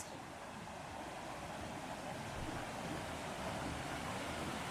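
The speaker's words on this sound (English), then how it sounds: "I could just sit here all day and listen to that water." Rushing water pours steadily at Buttermilk Falls, a waterfall near Rockport, Pennsylvania, making a dense, constant roar that fills the scene without a break or any voice over it.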